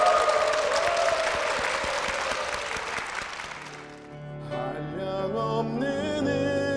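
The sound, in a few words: church congregation applause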